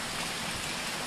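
Steady rain pours down throughout, a dense, even hiss of drops with no gaps or voices.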